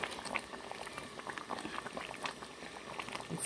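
Oxtail stew simmering in a pot, giving a soft, continuous bubbling and popping at close range, fairly quiet and steady throughout.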